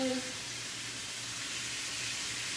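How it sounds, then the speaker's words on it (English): Pollo asado chicken sears on a grill pan indoors, giving a steady, close hiss and crackle of sizzling juices that fills the clip, with a brief voice fragment at the very start. "you're gonna hear some good sizzling as that sears in the juices"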